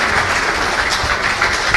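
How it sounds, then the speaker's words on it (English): An audience at a tech conference applauds steadily, a dense, even wash of clapping sustained throughout. "Please clap if you are clapping."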